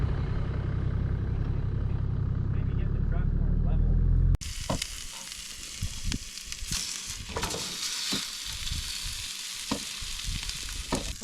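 Ribs browning in a pan over an outdoor bush cooking setup, a loud close rumble giving way abruptly to a steady crackling sizzle with scattered pops and spits.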